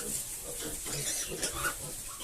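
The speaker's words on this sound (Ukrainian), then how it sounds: "Зараз покажу других свиней." A nursing sow in a farm pen grunts in low, steady bursts, close by, with faint squeals from her piglets mixed in.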